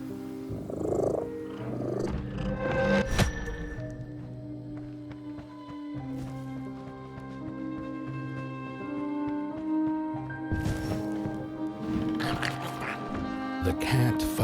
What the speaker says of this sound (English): Purring kitty.